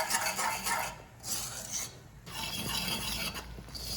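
Ghee Mysore pak mixture stirred around the sides of a pan on high flame with ghee added: continuous close scraping and rasping strokes with short breaks, no voices.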